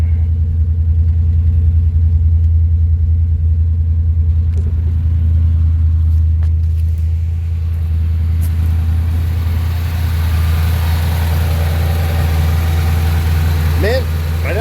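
V8-swapped Chevy S10 pickup truck engine idling, a loud deep steady rumble close by throughout, with faint background noises toward the end.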